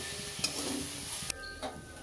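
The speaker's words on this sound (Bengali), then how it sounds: "দেখুন এইভাবে নাড়াচাড়া করতে করতে 3 থেকে 4 মিনিটের পরে ছোলা শাক আর পেঁয়াজকলি ভাজা আমার রেডি হয়ে গেছে" Onion stalks and chickpea greens being stirred in a pan over low gas, with a soft steady sizzle and occasional scraping stirs and light utensil clicks, close and moderate in level.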